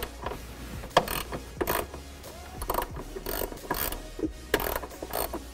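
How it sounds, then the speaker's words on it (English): A ratchet wrench loosens a 13mm bolt securing the lower airbox of a 2018 Ford F-150 2.7L/3.5L EcoBoost: close, crisp clicking bursts of pawl ratcheting in quick irregular strokes. "Remove this 13mm bolt that secures the bottom portion of the airbox."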